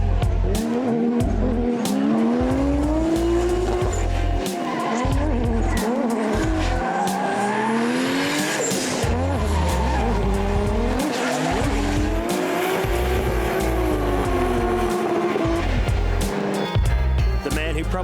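Pro drift cars at a D1NZ competition in Christchurch roar and rev hard while their tires squeal in long wavering screeches, engines loud and close, the skidding continuing unbroken throughout.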